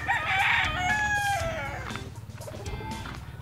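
On a farm, a rooster crows loudly once up close, followed by clucking chickens over a low, pulsing background rumble.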